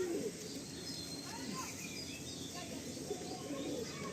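Madrasi pigeons coo softly in short, low, throaty phrases, with a few higher chirps scattered among them, heard close against a quiet background.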